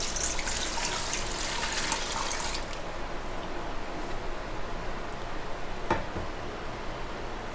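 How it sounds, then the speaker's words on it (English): Four cups of water pour into an Instant Pot as the first step of mac and cheese, a soft steady splashing stream that tapers off partway through, followed by quieter liquid sounds. "I'm going to put in my 4 cups of water"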